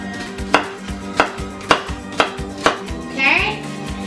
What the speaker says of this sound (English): he's chopping up the carrot for us